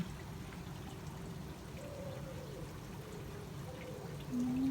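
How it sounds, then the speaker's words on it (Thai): Steady rain patters and trickles without a break, a dense wash of water sound with no voices. "วันนี้ฝนตกค่ะ"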